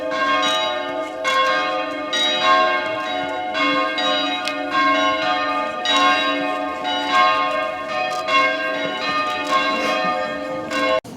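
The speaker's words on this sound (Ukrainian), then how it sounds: "А колишній священник Андрій Квартюк посприяв встановленні двох дзвонів, яких привезли із Польщі" Church bells, two of them brought from Poland, ring in a steady overlapping peal at a Hutsul church, loud and resonant with sustained ringing tones and no voices.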